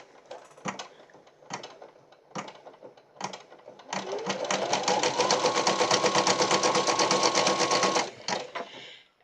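An embroidery machine stitches a Christmas ornament in the hoop, starting after a few scattered clicks and then running as a steady, rapid, close mechanical chatter for about four seconds before stopping.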